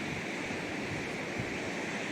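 Meltwater pouring off the ice at the Gaumukh glacier, the Ganges source high in the Himalaya, makes a steady, loud broadband rush that holds unbroken from start to finish with no voices over it.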